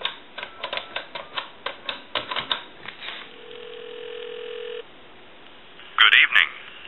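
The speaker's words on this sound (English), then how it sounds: "So I'll give you some dial tone. We'll go ahead and call a time and temp number." A Western Electric 2500 red desk touch-tone telephone clicks and clatters as the handset is lifted, then a steady dial tone hums for a moment before a quick, loud run of touch-tone dialing beeps.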